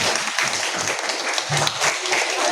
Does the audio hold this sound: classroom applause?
yes